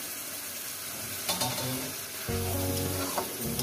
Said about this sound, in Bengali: এটাকে সুন্দর করে মশলাটাকে ভালো করে কষিয়ে নেব।